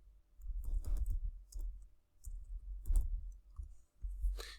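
A few sharp computer mouse clicks at a desk, close and dry, arriving singly and in quick pairs with short quiet gaps between them.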